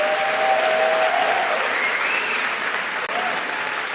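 Audience applause at a City Arts & Lectures event in San Francisco, a full steady wash of clapping from a large seated crowd, even and continuous, with a few whistles or cheers rising briefly over it.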